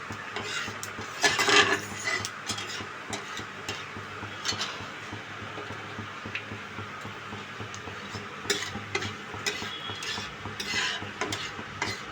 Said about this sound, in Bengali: সামান্য একটু কালো জিরে দিচ্ছি কালো জিরেটা একটু বেশিই দিলাম